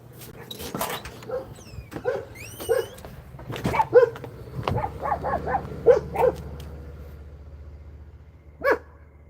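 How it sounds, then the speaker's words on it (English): Several dogs bark outdoors in a series of sharp, irregular barks and yips, fairly close, with some whimpering between bursts and a steady low hum underneath. "Let me see where they're barking at, though."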